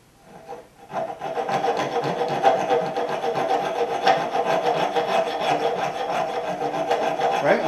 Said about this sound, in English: Push down. And just rub it back and forth.